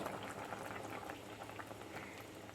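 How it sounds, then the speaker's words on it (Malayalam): Cooked cowpeas and their cooking water go into a pan of pumpkin erisseri, a steady bubbling, sloshing liquid sound that stays close and fairly quiet for the whole moment, with no talking. "ഇനി നമുക്ക് വേവിച്ച് വെച്ചിരിക്കുന്ന വൻപയർ ആ വെന്ത് വെള്ളത്തോടു കൂടിയാണ് ചേർക്കുന്നത്"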